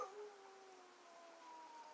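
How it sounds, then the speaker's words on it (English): A dog howls in long, drawn-out wails somewhere in the background, faint and distant in an otherwise quiet room. "you hear the howling in the background"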